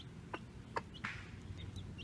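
A mother hen on a small homestead gives short, separate clucks, about four over two seconds, fairly close, over a low steady background hum.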